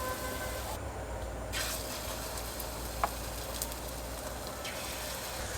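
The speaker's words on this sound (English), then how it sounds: "So I'm gonna add this pakora here directly, straight into this curry" Fried pakora drops into a pot of lemon kadhi curry and sets off a steady, soft sizzle with faint ticking and bubbling. One small tap or clink stands out midway, and no one speaks.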